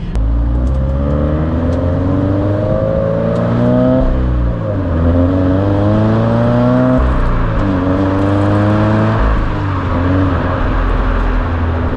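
A manual-transmission 2020 Subaru BRZ tS engine revs hard and close, climbing in pitch through several pulls with brief dips at each gear change, loud and continuous throughout.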